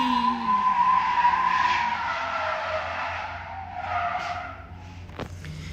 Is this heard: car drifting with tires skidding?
yes